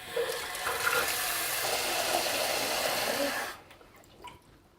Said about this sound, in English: fill up the pan with water